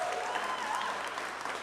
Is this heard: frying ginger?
no